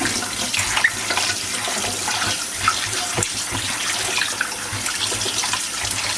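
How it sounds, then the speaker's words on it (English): Tap water runs steadily into a kitchen sink while raw chicken is rinsed for Jamaican brown stew chicken, a continuous close splashing hiss with small clinks and splashes from handling, and no talking. "So as you can see I'm giving it a wash right now."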